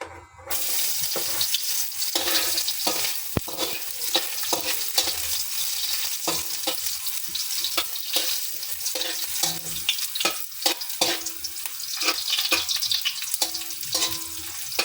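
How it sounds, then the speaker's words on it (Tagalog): Ginger fries in hot oil in a pan, a continuous crackling sizzle with frequent scraping stirs and clanks of a utensil, close and fairly loud throughout. "At yung tumutunog pag nilagyan mo ng mantika."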